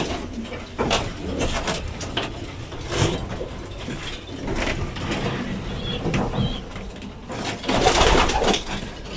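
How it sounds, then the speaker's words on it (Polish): Racing pigeons coo repeatedly in an enclosed loft, with rustling, scratchy movement and a louder burst of fluttering near the end. "No i tutaj jest gołębnik rozpodowy"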